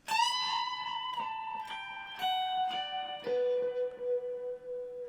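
Slow lead guitar lick that opens with a sustained string bend high on the neck, followed by a few single notes stepping downward, each ringing out clean and alone at moderate volume.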